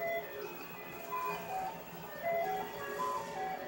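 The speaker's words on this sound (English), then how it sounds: "There's another ice cream truck." An ice cream truck passes outside a house, its repeating chime melody ringing out steadily over the low hum of traffic and the van's engine, moderately close and continuous throughout.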